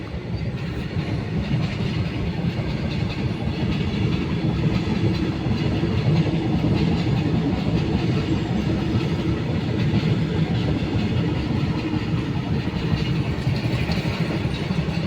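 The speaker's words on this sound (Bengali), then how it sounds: "ট্রেনটা যাচ্ছে চলে যাক" A train passing a railway level crossing while a car waits at the gate, a steady, loud rolling rumble of wagons with a continuous rattle that holds for the whole stretch, with no talking.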